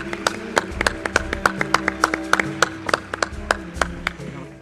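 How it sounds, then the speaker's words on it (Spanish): An audience at a live radio show recorded in Mérida claps steadily, producing a dense run of crisp, close hand claps with little talking. "Un aplauso."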